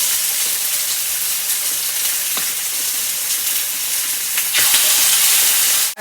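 Potato pieces fry in a hot pan at about 355 degrees, a loud, dense, continuous sizzle heard up close that swells to a stronger hiss near the end.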